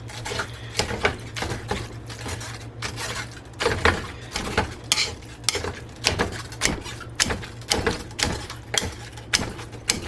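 A spatula repeatedly presses and scrapes a bison burger patty seasoned with paprika against a pan, giving a rapid run of close metallic clicks and taps with no talk.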